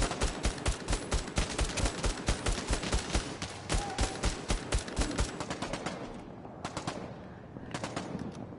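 Rapid automatic gunfire in the PSVR co-op shooter Bravo Team, sharp evenly spaced bursts of shots ringing out close and loud, thinning into a few scattered volleys near the end.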